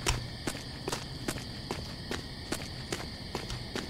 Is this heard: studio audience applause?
no